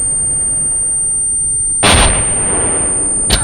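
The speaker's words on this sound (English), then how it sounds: "Anyone else volley firing the tower?" RPO launchers fire a volley at a tower in a military video game: a sudden loud blast near the middle that trails into a rumbling decay, then a brief second pop at the end, over a quiet background.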